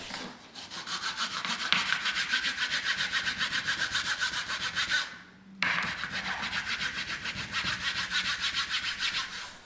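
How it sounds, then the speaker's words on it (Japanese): A leveler tool smooths putty pressed into filled nail holes during a small room repair, giving fast, even, close-up scraping strokes in a steady rhythm, with one brief pause midway. "レベラーで平滑にします"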